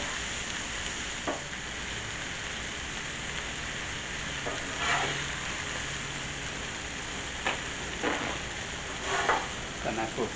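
Shrimp sear on a Blackstone flat-top griddle, giving a continuous, fairly quiet hiss of sizzling oil with a few faint scrapes and ticks scattered through it.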